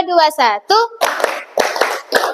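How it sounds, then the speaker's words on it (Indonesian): In a classroom, a brief voice speaks, then the class answers with crisp group hand claps, several sharp bursts in a quick single and double pattern, close and clear. "Coba tepuk tunggal, tepuk ganda."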